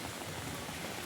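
Heavy live rain in early September pours steadily, a dense even hiss of drops drumming on surfaces, constant and fairly close.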